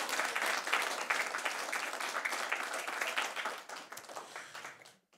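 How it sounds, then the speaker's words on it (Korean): Small church congregation giving a round of applause, a dense crackle of many hands clapping that gradually thins and fades out near the end. "우리 하나님께 감사의 박수 올려드리겠습니다."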